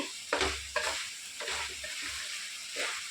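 Chili powder fries in oil for an Andhra-style country chicken curry, giving a soft, close sizzle broken by several scraping stirs with dull low thuds against the pan.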